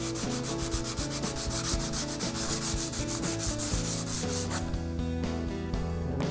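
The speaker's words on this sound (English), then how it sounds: "some worn out sandpaper and just really lightly hit that area just to take those burrs back down." Worn sandpaper rubbed lightly over burrs on a steel welding table, making fast, steady back-and-forth scraping strokes, close and continuous.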